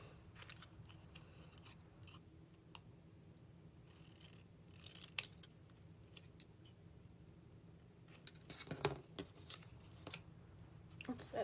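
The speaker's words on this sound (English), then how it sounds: "Just gonna give that a quick snip out." Scissors snip out a paper Halloween coffin tag in a handful of quick, faint cuts, with a soft rustle of paper around them. The sound is close and quiet, and no one speaks.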